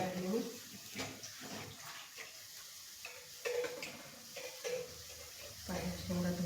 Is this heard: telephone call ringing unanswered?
no